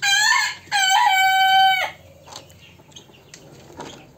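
A rooster in a chicken coop holding black Silkie and local breed hens crows loudly in two drawn-out, harmonic bursts. Quieter clucks and rustling follow, with no one talking.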